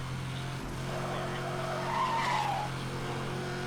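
A Corvette drifts in the racing game NFS Hot Pursuit Remastered, its engine droning steadily while a brief tire squeal rises and fades midway.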